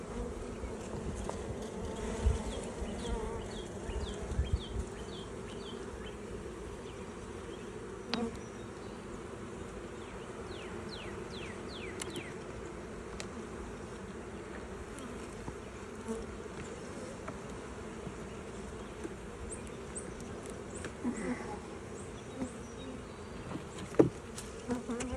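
Honey bees drone steadily around a hive, a dense, even buzz that carries on throughout at moderate loudness. Individual bees whir briefly past the microphone now and then, and there is no talking.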